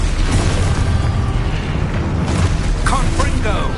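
A booming Expulso spell explosion in the Hogwarts Legacy video game, loud and continuous amid a dense rumble of game effects, while a voice calls out over it.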